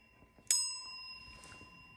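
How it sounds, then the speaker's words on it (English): A single small bell rung once before a tarot card reading, with a sharp bright strike that rings on and slowly fades against quiet room tone. "I'm going to go ahead and ring the bell for additional good juju"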